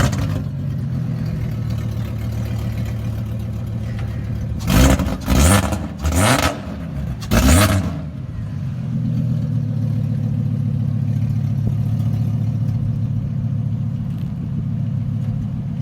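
A 2.3-litre V5 engine swapped into a Volkswagen Up idles with a steady low rumble, then fires off three or four sharp, loud revs in quick succession before settling back to idle.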